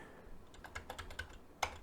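Keys clack on a secondary computer keyboard in a quick, uneven burst of taps, close and fairly quiet, ending with a couple of sharper strokes.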